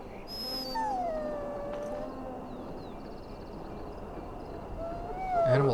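A dog whines and whimpers in Dragon Age: Origins, a few drawn-out falling cries over a low game ambience, with no one talking.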